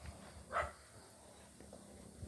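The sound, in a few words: dog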